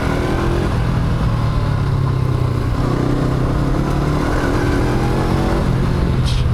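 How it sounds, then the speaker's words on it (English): A Honda NX500 motorcycle engine revs hard while riding, its steady mid-pitched drone rising through the gear, heard up close alongside constant wind noise. "Let's get another gear so I'm not revving it quite that hard."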